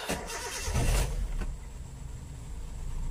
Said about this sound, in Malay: Oke, engine dalam keadaan sejuk. RPM bawah 1000.